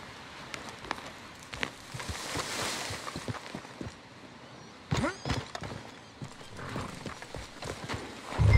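Horse hooves clip-clop on the ground in the Red Dead Redemption 2 mission Money Lending and Other Sins IV, a steady trotting rhythm under rain-like ambience, with a sharper burst of hoof and tack noise midway and a faint whinny.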